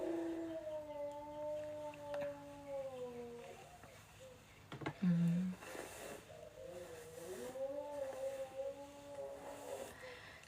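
A dog howls in long, wavering drawn-out tones that rise and fall, pausing briefly before a second stretch of howling, fairly close and alone without talk.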